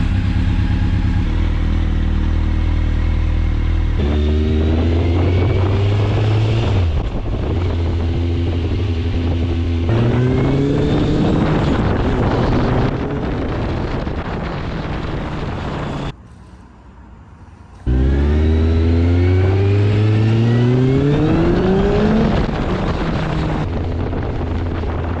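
A restored Kawasaki street motorcycle out on a test ride: loud, steady engine drone with repeated rising revs through the gears, a brief throttle-off dip near the end, then pulling hard again under wind rush.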